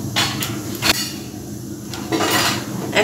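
Cardamom crackling in hot oil in a pan, heard as close bursts of sizzling hiss that swell and fade in a few waves, with a sharp clatter of a utensil near the start.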